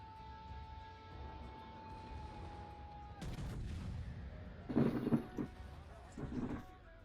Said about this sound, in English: We'll see what this volley does